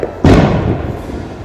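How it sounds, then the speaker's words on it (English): One deep boom of a firework bursts nearby, then rumbles and fades into a lingering crackle. "I hope you can hear me over the fireworks"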